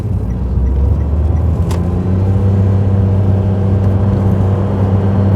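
A 2012 Daihatsu Tanto Custom RS turbo kei car accelerates with a steady, held engine drone at constant revs, a loud continuous hum and rumble heard from inside the cabin with no talking.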